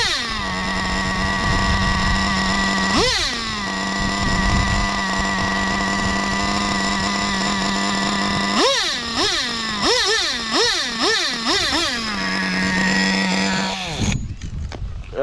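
A Traxxas Slayer Pro 3.3 nitro RC truck engine running loud and near, holding a steady buzzing idle, then rising in sharp revs and a quick burst of repeated throttle blips before settling back to idle.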